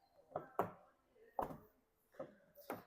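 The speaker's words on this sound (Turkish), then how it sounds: "gayet sessiz bir kapı kapanı sesi aslında bakarsınız" Rear door of a Hyundai i30 car being shut, giving a few distinct, fairly soft thuds and latch clicks spaced out over a few seconds, close by with no talking.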